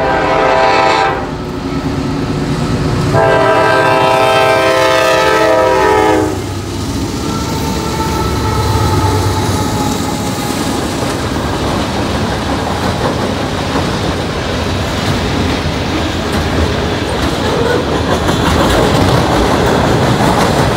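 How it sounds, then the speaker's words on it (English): A second train passes a railroad crossing, its horn blaring in long loud blasts at first, then the steady rumble and clatter of the wagons rolling by continues up close. "We got a second train coming"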